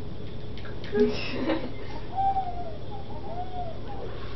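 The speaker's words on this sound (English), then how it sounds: "Did you not hear the owl just now?" An owl hoots a few times outdoors, faint and distant, with soft low tones against a steady background hiss, then falls quiet.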